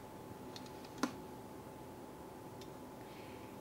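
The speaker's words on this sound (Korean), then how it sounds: "굿이라는 단어를 입력해 보겠습니다." A few light keyboard taps as a search word is typed into a music app, sparse quiet clicks with one sharper key press, over faint room hiss.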